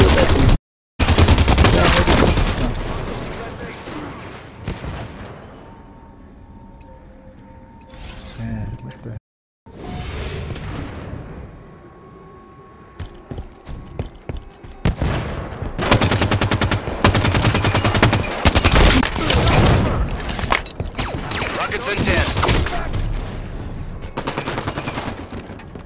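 Hostile gunfire in a video game firefight: loud, dense bursts of automatic fire that are close and sustained, broken by brief gaps and quieter mechanical stretches, with voices speaking at times.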